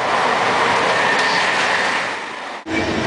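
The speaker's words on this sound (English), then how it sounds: "here I am in the train" A passenger train runs fast along the rails, its loud, steady rumble and rattle of rail cars filling the ride, with a brief dropout near the end before the noise resumes.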